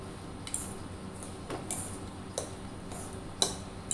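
Coriander powder and garam masala being stirred together with a metal spoon in a small bowl, giving a few light, sparse clinks and taps spread over a quiet background.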